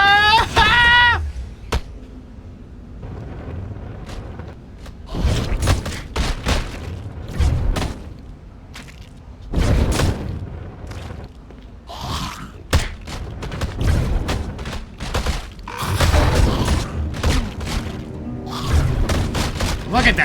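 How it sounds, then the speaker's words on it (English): Heavy booming shotgun blasts in the video game Baldur's Gate: Dark Alliance 2 go off repeatedly at irregular intervals among other combat thuds, loud and close, with brief vocal sounds mixed in. "Look at that shotgun blast, though, right?"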